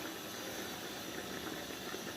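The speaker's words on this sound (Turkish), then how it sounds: "incir reçelim kaynamaya başladı" A steady, dense bubbling and hissing of fig jam boiling in a pot on the stove, continuous and close, with no voices.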